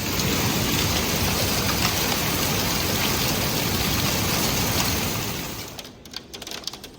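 Heavy rain pours during a thunderstorm, a loud, dense, continuous roar that fades toward the end into scattered drips and patter.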